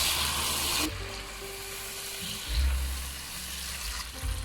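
Onion and tomato frying in a pan for aloo palak after a splash of water is added, a steady close sizzle with a louder low burst of bubbling partway through, no voices.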